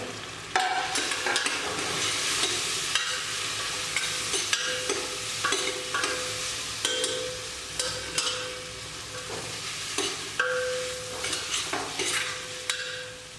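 Masala powder is stirred into frying onions for chicken biryani: repeated scraping strokes of a spoon in the pan over a constant sizzle, close and clear, no one speaking.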